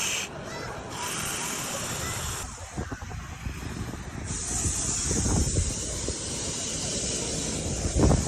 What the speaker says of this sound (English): So I'm blowing into this tube.